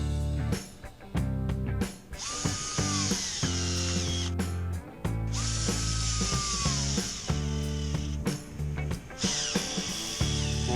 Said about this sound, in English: So even though I'm using an impact driver here, I'm not torquing them down with this impact driver.